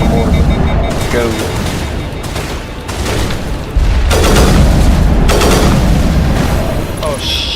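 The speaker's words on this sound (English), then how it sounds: "Shepard, I'm giving you command of the cannon. Alright, nuke there, come on" Cannon fire and explosions in the Mass Effect video game, loud booming blasts and rapid gunfire bursts crowding together, with people talking over the chaos.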